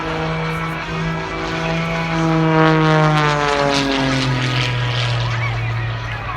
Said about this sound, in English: is powered by a 400 horsepower rotating IO 540 engine, making it without doubt one of the highest aerobatic biplanes in the world today